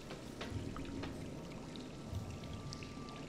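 Water in the Darksiders video game flows and splashes steadily, a continuous stream with scattered faint drips, heard alone at moderate volume.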